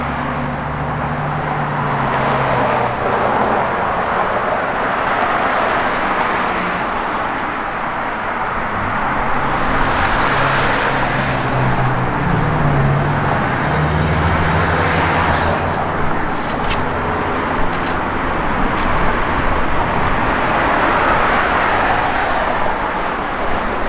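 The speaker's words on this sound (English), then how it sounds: "Dual exhaust, I think it's Flowmaster dual exhaust. It's got great sound." A 1952 Chevrolet 3100 pickup with Flowmaster dual exhaust rumbles with a loud, steady, deep engine note, as if cruising along a road, continuous throughout with no talking.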